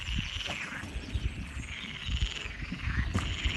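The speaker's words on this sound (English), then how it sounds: "Oh yeah, they're frogs." Frogs croak in a continuous chorus outdoors in the Bairrada region of Portugal, a dense steady chirring and croaking texture with occasional louder calls, heard without speech.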